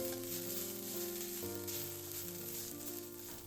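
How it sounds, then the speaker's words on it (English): Udon noodles stir-fried in a pan for a Japanese shokado bento, giving a steady, close sizzle and crackle with no talking, while a faint tonal hum runs beneath the frying. "Then I add udon. I stir fry it until it becomes tender."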